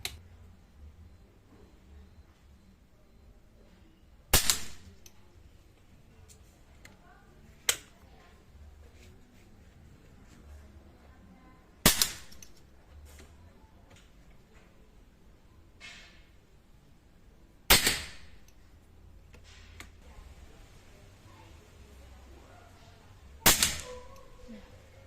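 Air rifle shots at a target crack out one at a time, five sharp reports spaced several seconds apart against a quiet background with faint movement between them.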